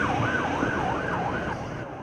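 Emergency vehicle sirens from police cars, ambulances and fire trucks at a mock DUI event wail up and down in a steady, repeating sweep, moderately loud with traffic rumble beneath.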